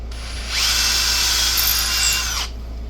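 A power drill whirs in one steady two-second burst as it bores into scrap wood for a bench shelf, rising quickly and cutting off sharply against a low background hum.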